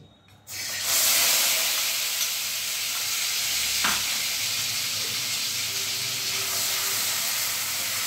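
Ground spice paste hits about two spoons of hot white oil in a wok and erupts into loud, steady sizzling and hissing that carries on unbroken after a quiet start.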